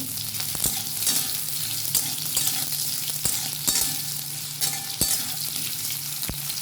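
Potatoes fry in a pan with a constant crackling sizzle of oil, and sharp clacks of a spatula against the metal are scattered through it. No one speaks.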